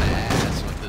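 A shotgun blast from a first-person shooter, roaring as one loud, sustained burst of noisy gunfire that fills the whole moment without a break, with no clear separate shots standing out.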